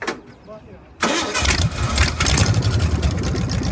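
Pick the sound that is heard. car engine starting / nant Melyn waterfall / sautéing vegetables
car engine starting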